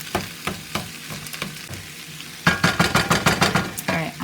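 Fried rice with peas and carrots frying in a HexClad pan, a continuous close sizzle broken by rapid spatula scrapes and taps against the pan, busier toward the end, with no talking.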